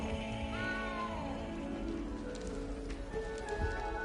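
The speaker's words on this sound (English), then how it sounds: "You don't need to be frightened, little cat." A frightened little cat meows in the video game Hogwarts Legacy, a few rising and falling cries heard amid steady background ambience.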